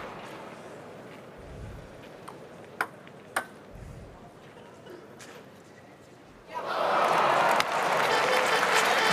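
An arena crowd at a 2011 German Open men's singles table tennis quarterfinal lets out a sudden loud swell of noise late on, after a few sharp ball pings over a quiet hall murmur.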